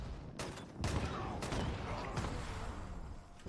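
Automatic launcher fire in Fallout 76, a dense run of sharp gunfire bursts repeating at close range over a steady game background, with talk mixed in.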